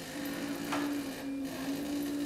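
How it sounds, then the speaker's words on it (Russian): A kitchen dishwasher runs through a wash cycle, giving off a steady close mechanical hum with a constant whirring tone and faint sloshing, with no voices. "Афонь, отойди, пожалуйста, от посудомойки. Она моет посуду"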